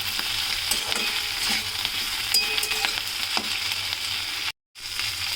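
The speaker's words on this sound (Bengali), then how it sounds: "আবার 2-3 মিনিট একটু ভাজা ভাজা করে নেব।" Spring onion stalks fry in a pan with a whole tomato and two split green chillies. A close, steady sizzle runs with scattered crackles and utensil scrapes, there is a brief dropout near the end, and no one speaks.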